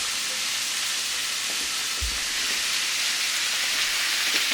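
Roughly cut vegetables dropped back into a pan for Sunday gravy, a steady close hissing sizzle with a soft thump and scattered crackles.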